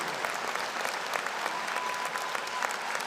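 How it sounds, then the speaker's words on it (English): Steady, dense applause from a large commencement audience, sustained and fairly even for the whole stretch with no voices rising above it. "give a sincere round of applause to your unconditional supporters and lifelong companions outside of Franklin"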